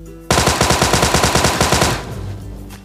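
A PUBG Mobile burst of automatic gunfire rattles out about fifteen rapid, evenly spaced loud shots. A short fading echo and the game's ambient noise follow.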